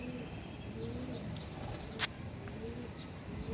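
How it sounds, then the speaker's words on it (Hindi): Golden pigeons coo softly in low, repeated murmurs against a quiet background, with a single sharp click partway through. "ये गोल्डन कबूतर है जी"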